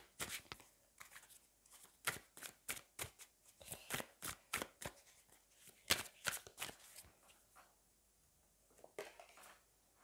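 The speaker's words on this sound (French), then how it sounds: "allez, on va aller voir une dernière carte de tarot" Tarot cards are shuffled and drawn at close range, a quick run of crisp slaps and riffles with brief pauses, alone and fairly faint, a last burst near the end.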